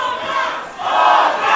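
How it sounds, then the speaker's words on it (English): Pro wrestling crowd chants in unison, a loud, sustained rhythmic roar of many voices that dips briefly, then swells again, filling the arena. "the crowd chanting Otra yet again"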